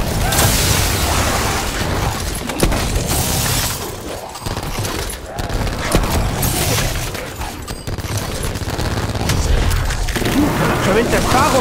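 Dense bursts of gunfire and explosions in Call of Duty: Black Ops 4 Zombies, Blood of the Dead map, loud and nearly continuous, with brief lulls and a voice talking in Italian over the action.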